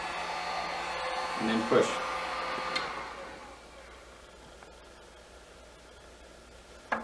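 A heat gun blows a steady broadband hiss over heat-shrink tubing for about three seconds, then eases off to a quieter hum, with a brief spoken phrase near the start.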